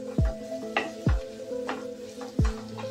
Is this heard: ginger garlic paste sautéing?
yes